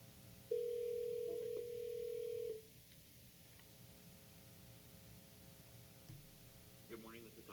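A telephone dial tone plays over a speakerphone at a hearing, a steady hum lasting about two seconds before cutting off, followed by faint room noise and brief beeps.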